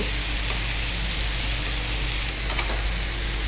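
Chicken pieces fry in a pan with a loud, even sizzle that stays steady and close, with a few brief crackles and no talking.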